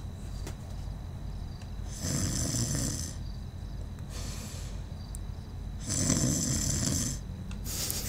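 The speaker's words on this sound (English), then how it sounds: "Let's see if the snoring gets his attention." Loud snoring from a character in GTA V roleplay, two long rasping snores separated by pauses, close and with no talk.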